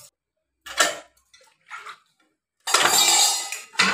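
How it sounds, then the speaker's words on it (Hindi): Dishes being washed in a home kitchen: several separate bursts of clattering utensils, then a longer steady rush of running tap water, close and fairly loud, with no talking. "यहाँ पे बर्तन धुल रहा था,"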